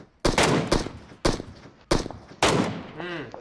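Gunfire in the mobile battle royale game PUBG Mobile, four loud close bursts of automatic fire separated by short pauses, ending in a brief whining tail.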